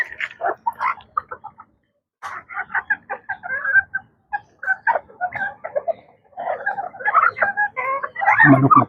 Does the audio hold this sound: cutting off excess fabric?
no